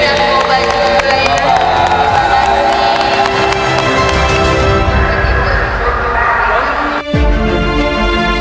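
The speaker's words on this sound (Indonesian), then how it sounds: "Semuanya tepuk tangan nih untuk PFC." An audience in a mall claps and cheers loudly for a performing group, a dense wash of applause and crowd voices with some voices and music-like tones mixed in throughout.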